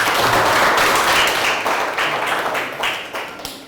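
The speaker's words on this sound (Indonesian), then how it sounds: "tepuk tangan untuk Ingrid" Classmates applauding Ingrid in a teacher-training classroom session, loud close clapping from a group that starts dense and thins toward the end.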